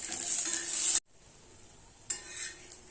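Green chillies fry in oil in a pan, a bright hissing sizzle that cuts out abruptly, leaves a quiet gap, then returns with some scraping of the pan.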